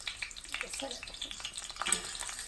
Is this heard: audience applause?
no